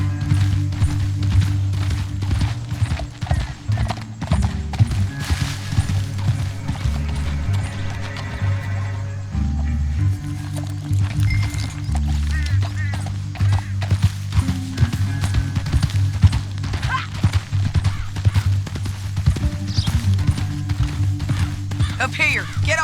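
Horses gallop and whinny in the video game Red Dead Redemption 2, with steady hoofbeats and clip-clop mixed under game dialogue and music throughout.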